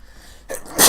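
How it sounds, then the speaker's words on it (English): A person sneezes once, loud and close: a short sharp inhale followed by a bright explosive burst at the end, with a quiet room beforehand. "Oh man, I'm about to sneeze."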